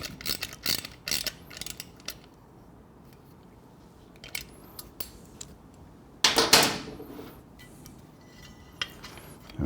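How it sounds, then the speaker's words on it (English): Small 10mm socket ratchet tightening a fastener on a motorcycle tail light mount, giving brief bursts of close, quiet clicking with pauses, one louder rattling burst partway through. "So using our 4mm Allen, 10mm socket, tighten that up."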